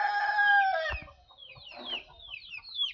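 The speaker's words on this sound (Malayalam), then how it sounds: "അടിപൊളി കോഴികളാണ് കേട്ടോ" Aseel cross chickens cluck and squawk close by, with a rooster-like call at the start and shorter clucks and chirps following in quick succession.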